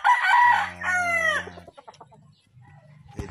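Young gamecock brood stags on a farm crow loudly and close in two drawn-out calls, followed by softer low clucking and a sharp final noise.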